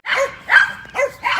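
Dogs bark in short, sharp yips mixed with whining whimpers, four excited bursts in quick succession, close and loud, with no talking.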